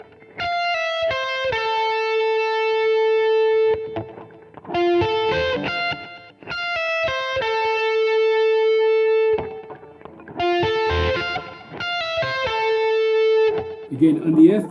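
Distorted electric guitar plays quick sweep-picked phrases that end on long sustained notes, in repeated bursts separated by short pauses.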